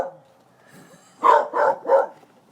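A pet dog gives three loud, close barks in quick succession after a quieter stretch of low room sound.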